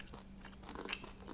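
Crisp cassava chips, spin-dried so they carry no oil, are bitten and crunched close up in a single quiet, brief snap.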